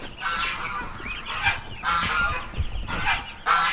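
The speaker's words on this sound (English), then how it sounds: "The goslings are getting really big like they should." Growing goslings on a farm give repeated close honks in short bursts, about five calls in quick succession, with no talking.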